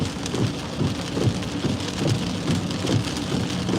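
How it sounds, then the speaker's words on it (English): Heavy storm rain in Southwest Florida pouring steadily onto surfaces, a dense constant hiss with low rumbling underneath, no voices. "It's already so saturated, and it just keeps coming down."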